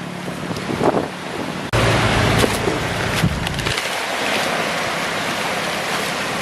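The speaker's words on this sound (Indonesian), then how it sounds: "Sorry kalau agak sedikit berisik, anginnya kenceng banget." Strong outdoor wind blasts straight into the microphone, making loud rumbling buffeting that surges in gusts and then settles into a constant roar, with no voices.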